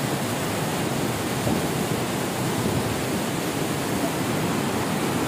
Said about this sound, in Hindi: यह है सीक्रेट वाटरफॉल